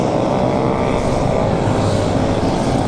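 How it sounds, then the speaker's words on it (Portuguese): Many Honda Hornet motorcycles passing on a Christmas night group ride, merging into a loud, continuous roar of engines, steady and dense throughout with no speech. "Tanto de motor que não para de vir"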